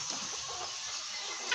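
Laying hens clucking in a brooder house, a short burst of soft, quiet farmyard clucks and murmurs against an airy background hiss, with no talking.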